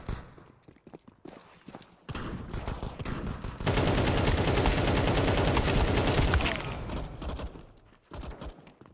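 Rapid gunfire from a gun in Counter-Strike 2 deathmatch on the Dust II map, loud sustained bursts that build into a dense continuous stream of shots before cutting off, with no talking.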